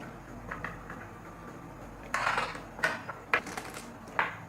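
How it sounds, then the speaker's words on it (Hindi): A spoon mixes sweet biscuit trifle ingredients in a bowl, making close, intermittent scraping and clinking strokes over a quiet background, with no talk. "इसको अच्छी तरह से मिक्स करेंगे।"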